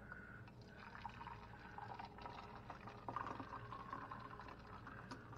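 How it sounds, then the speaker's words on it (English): Two cups of boiling water poured into a creamy chicken potato casserole in a home kitchen; a faint, continuous liquid trickle and splash, quiet and close, running through the whole moment. "to this we're going to add 2 cups of boiling water"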